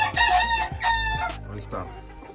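A rooster crows loudly and close by, a few long harmonic calls in a row over a steady low background hum.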